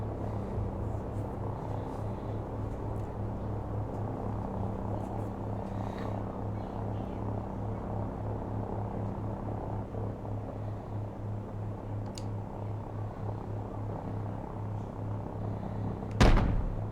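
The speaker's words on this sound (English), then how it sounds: "Crew, be advised, friendly helicopters entering the area." Helicopters fly over a battlefield in the Call of Duty 4 Remastered campaign, giving a steady low rotor drone and hum that holds throughout, with a sharp thump near the end.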